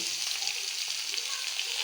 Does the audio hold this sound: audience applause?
no